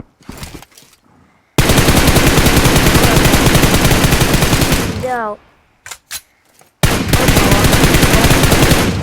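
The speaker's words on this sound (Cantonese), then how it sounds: "聽到槍聲" Gunfire in the video game PUBG: long, loud sustained bursts of rapid automatic fire, a pause with a few isolated shots, then another extended burst, with a player speaking briefly between them.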